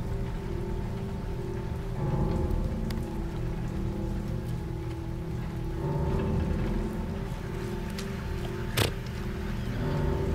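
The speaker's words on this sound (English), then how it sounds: "Getting out of the rain, are we?" Steady rain falls and patters on surfaces in the Silent Hill 2 Remake. The downpour is loud and continuous, with a faint engine-like drone underneath and one brief sharp knock near the end. No one speaks.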